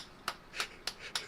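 Four crisp, evenly spaced claps from The Legend of Heroes: Trails of Cold Steel ring out quickly and fairly quietly, with nothing else around them.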